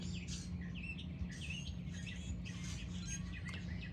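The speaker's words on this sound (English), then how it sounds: "The birds are very happy today." Birds chirp and call in quick, busy bursts, fairly faint, over a low steady hum of outdoor background noise.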